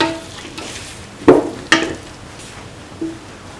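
A carrot and bottle gourd stew is stirred after salt is added: a few sharp spoon scrapes and clinks against the pot, spaced apart over a faint sizzle.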